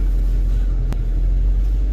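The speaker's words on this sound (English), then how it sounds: "Alright, I'm driving. That car is shortly warmed up." A warmed-up car engine runs while driving, a steady close low rumble filling the whole stretch, with one brief click partway through.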